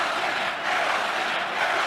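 A convention crowd at a 1992 political speech chanting together, a loud, sustained wash of massed voices with no clear gaps through the short excerpt.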